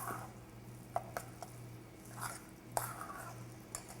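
Cheddar cheese being stirred into a dish of putbacks, with soft, irregular scraping and tapping of a utensil against the pot, quiet and close, with a faint steady hum underneath.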